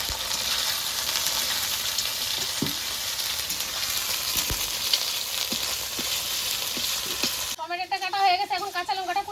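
Eggs stirred and broken up while frying with a pinch of salt, a loud continuous sizzle with scraping spatula strokes, close up, cut off near the end by a brief voice.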